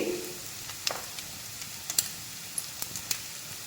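Shrimp frying in a pan with chili powder, pepper and garam masala sizzle in a steady low hiss, broken by a few sharp crackles and pops as the mixture is stirred, close up with no talking.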